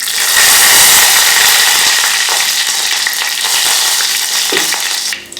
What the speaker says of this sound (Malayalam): ഞാനിതിലേക്ക് ഒരു വറ്റൽമുളക് പൊട്ടിച്ചിടുകയാണ്.